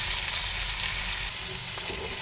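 Grass carp pieces dusted with flour fry in hot oil in a pan, a dense continuous sizzle that stays loud and close throughout, with a faint scrape near the end and no talking.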